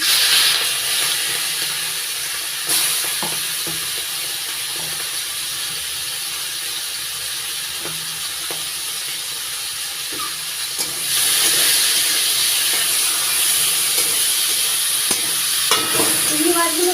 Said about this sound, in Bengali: তেল গরম হয়ে গেছে এবার আমি নুন হলুদ দিয়ে চিংড়ি মাছগুলো মেখে তারপরে ভেজে নিচ্ছি